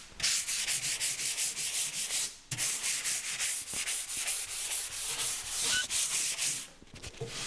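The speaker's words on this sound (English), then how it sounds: "So I'll just use my 220 sanding pad." Light hand sanding of painted and polyurethane-coated wood furniture with a 220-grit sanding pad, rapid rhythmic back-and-forth rasping strokes close up, with one short pause partway through and another near the end.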